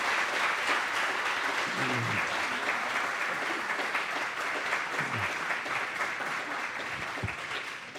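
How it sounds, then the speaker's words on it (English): A debate audience for a Preston first selectman race applauds steadily, a dense sustained clatter of many hands that holds loud throughout, with a few faint voices underneath. "Now we can get a round of applause for our candidates"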